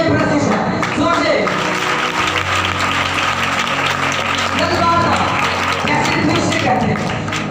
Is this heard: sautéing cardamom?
no